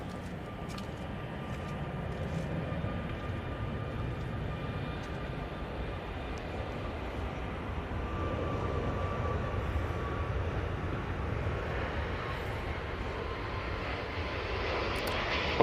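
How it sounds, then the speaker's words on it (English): A Ryanair jet airliner on its takeoff roll at Manchester Airport gives a steady, distant engine roar that slowly swells and brightens over the whole stretch, with no voices. "Ryanair on the roll."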